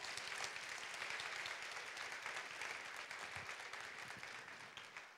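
Applause from a conference audience for award-winning schools, a sustained crowd of clapping hands heard at a distance, fairly quiet and even throughout, tapering slightly at the end.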